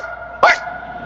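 One short, sharp dog bark sounds close and loud against a quiet background.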